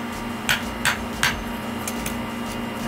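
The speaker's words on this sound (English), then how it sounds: "For these, I usually like to just use flathead screwdriver and a good old hammer" A hammer strikes a flathead screwdriver to split Pukani rock, with three sharp metallic taps about a third of a second apart, then two fainter ones, over a steady background hum.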